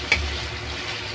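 Chicken stir-frying with onion, tomato and garlic gives a steady, close sizzle throughout, with one small clink of a utensil near the start.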